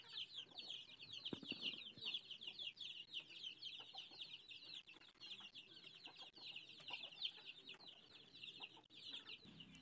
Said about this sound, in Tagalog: Manok ni Lola.